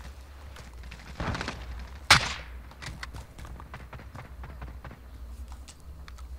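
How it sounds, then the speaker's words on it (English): Gunfire in a video game shooter: a single sharp, loud shot cracks out mid-clip after a short burst of noise, then scattered faint clicks and distant pops continue with no one talking. "Shooting everywhere."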